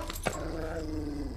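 A dog growls low and rumbling in a steady, sustained snarl at close range, with a brief sharp yip near the start and no talk over it.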